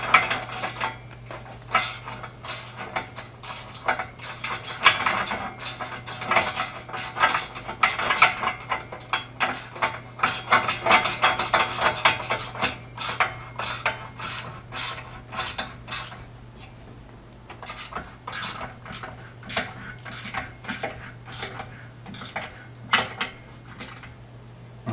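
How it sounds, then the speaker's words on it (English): A big bolt on a Polaris Ranger XP 1000 upper front brush guard is tightened with a ratchet, giving rapid metallic clicks in close, uneven bursts over a low steady hum, with no talk. "we're going to get this big bolt over here, come in there, and we're just going to tighten it up"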